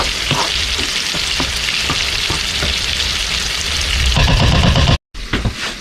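Apple chutney bubbling in a pot, stirred with steady scraping strokes over a continuous sizzle, loud and close, then a brief cutoff near the end before the cooking noise resumes.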